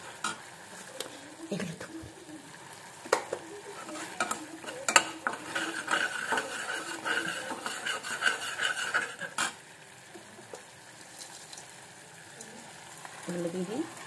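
Fried baby corn being stirred with tomato sauce in a pan, uneven scraping and clattering of a ladle against metal, close and moderately loud, with a few brief spoken words.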